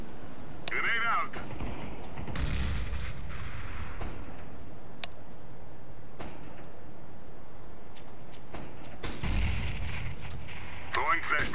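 Gunfire and a grenade in the video game Counter-Strike: Global Offensive, with sharp scattered shots and a couple of heavier low blasts over steady game ambience, fairly loud and close.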